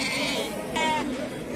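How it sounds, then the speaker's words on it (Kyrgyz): Three-month-old lambs at a sheep market in Uchkun bazaar, Osh, with one clear nearby bleat rising mid-clip over a busy background of market crowd murmur. "3 айлык болгон козулар экен."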